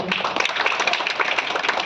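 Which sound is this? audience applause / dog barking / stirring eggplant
audience applause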